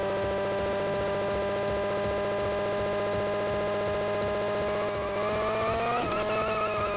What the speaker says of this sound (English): There's pretty much only like one or two engine sounds in this game.